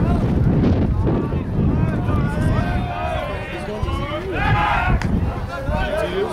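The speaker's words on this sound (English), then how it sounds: "It's the wind blowing." Wind buffets an outdoor microphone at a youth baseball game, a steady low roar running throughout, with people talking and cheering over it.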